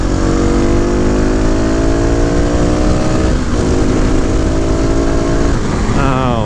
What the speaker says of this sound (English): that pop from that exhaust.